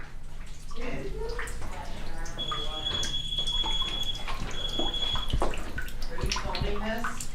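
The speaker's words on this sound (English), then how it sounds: "It sounded like someone was playing in the bath. Like the water was moving around. Like splashing around." Water sloshing and splashing in a bathtub in a hotel room, a continuous near wash of water with faint tonal hums and a brief sharp knock, under occasional soft voices.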